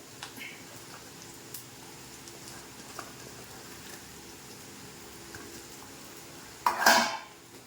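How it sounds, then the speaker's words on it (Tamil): Sliced bitter gourd for a pickle is tossed into hot oil in a pan: a quiet stretch of light metallic clinks before a sudden loud rush of sizzling bursts near the end. "எண்ணெய் காஞ்சிருச்சு இதில் வந்து பாவக்காயை போடுறேன்"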